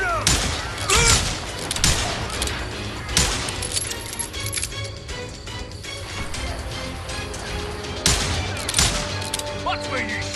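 Gunfire from the Western shooter Call of Juarez Gunslinger: repeated loud bursts and single shots crack through the scene, with a dense volley near the start and another strong blast later, over a constant game soundscape.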